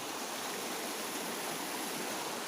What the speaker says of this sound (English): This running water is coming from the mountain,